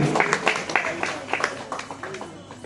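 Audience members clap at a Makara Sankranti celebration in Diggi Basti, Haddo Ward, making a moderate patter of applause that fades gradually, with a voice speaking over it.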